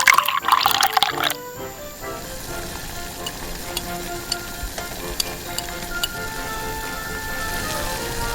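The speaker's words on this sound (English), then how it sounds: "Water." Water poured into a tiny pan in a miniature kitchen, a brief bright splashing burst at the start, then soft sizzling and scattered small drips and ticks continuing alone.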